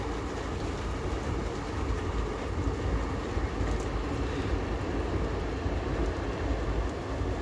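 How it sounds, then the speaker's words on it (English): A train passes at a distance on a nature walk, making a steady, faint rumble and wash of noise that holds evenly throughout, with no talking. "There goes the train."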